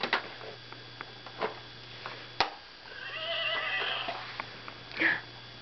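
A horse whinnies briefly in the middle distance, a short wavering call, with scattered light knocks and clicks around it.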